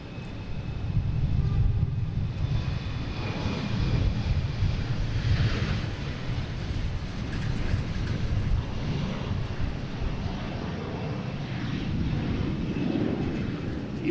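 Delta airliner departing Boston Logan for Louisville, a sustained low jet roar that swells and holds, with some wind buffeting on the microphone and no voices.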